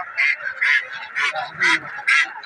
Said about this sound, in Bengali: এখানে কিছু হাঁস আছে, এটা হচ্ছে রাজা হাঁস